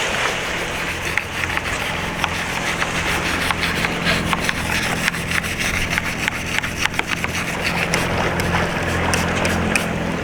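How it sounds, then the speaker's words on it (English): Aboard a sailboat motoring at sea, a hand polishes a stain off aluminium in quick, rhythmic rubbing strokes that carry on steadily. A low engine drone runs continuously underneath. "Today I'm just polishing it, trying to take off a bit of stain that's actually on the aluminium here."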